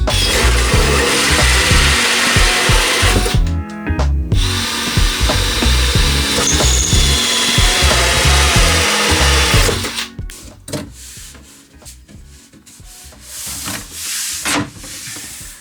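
A power drill works on a plastic panel inside a van build, with loud sustained whirring bursts for ten seconds, then quieter handling clatter and short knocks.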